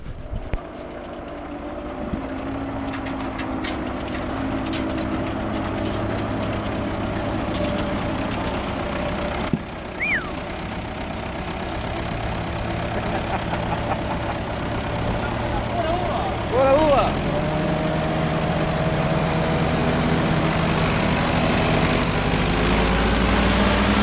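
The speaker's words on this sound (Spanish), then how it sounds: "Allá está el tractor, el Ford 5000 T5." Ford 5000 tractor engine running steadily in the fields of Zapotitán while grass is being chopped, a continuous close, loud rumble throughout with faint voices nearby.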